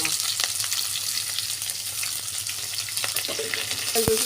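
Onion and garlic frying in oil with cumin for a mixed vegetable ghonto, a close, steady sizzle with occasional stirring clinks and a brief utensil knock near the end.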